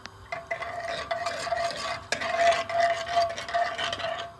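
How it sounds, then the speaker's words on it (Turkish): A pot of coconut milk pudding being stirred by hand, with steady scraping and swishing strokes against the pot that stay close and moderately loud throughout, with no talking. "Karıştırıyoruz. Bakalım sonuç ne olacak. Ve hala karıştırıyorum."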